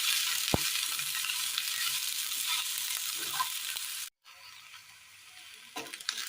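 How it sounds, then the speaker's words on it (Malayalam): Green chilies sauté in a pan with a bright, steady sizzle, a brief clatter of stirring, then a sudden cut to a quieter sizzle. "പച്ചമുളക് ഇതിൽ നന്നായി ഒന്ന് വാട്ടിയെടുക്കാം"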